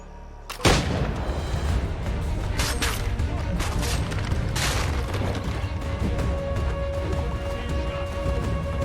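Sustained gunfire from an Assassin's Creed game set in revolutionary-era America, a dense loud volley of shots bursting in abruptly and rolling on continuously with sharp cracks over a booming din, no talk.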